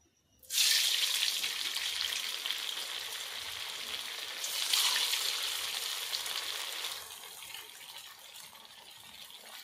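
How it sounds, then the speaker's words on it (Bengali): Pitha cakes made with chira and sweet potato drop into hot white oil in a kadai and set off a sudden loud sizzle, which swells again midway and then settles into a softer, steady frying hiss. "পিঠেগুলো ভেজে নেব।"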